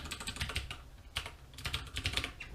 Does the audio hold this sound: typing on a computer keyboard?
yes